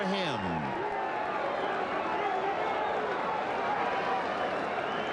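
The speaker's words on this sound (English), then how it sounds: "He has the crowd at Coors Field rooting for him." Baseball crowd at Coors Field roaring and cheering for a pitcher closing in on a no-hitter in the ninth inning, a dense, steady roar heard under a broadcaster's commentary.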